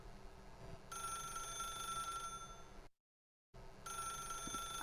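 A telephone rings in the video game The Stanley Parable, a steady buzzing electronic bell ring repeated twice with a brief silent gap between, fairly quiet with no speech.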